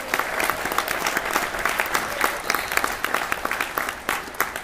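A live audience claps loudly and steadily for the All Blacks rugby team, dense continuous applause with no speech over it.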